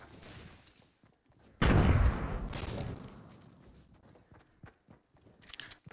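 Gunfire in a Fortnite-style shooter game: a sudden loud burst of rapid shots and crunching impacts, followed by quieter scattered clicks, footsteps and a thin ringing tone.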